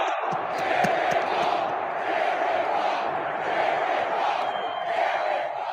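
A stadium crowd roars and cheers before a Detroit Lions versus Buccaneers football game, a dense sustained wash of voices with scattered shouts and whoops rising and falling throughout.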